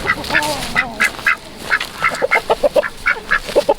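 Ducks quack repeatedly in short, punchy bursts while being herded on a farm, with a steady run of close, loud calls and a few brief human whistles or calls at the start.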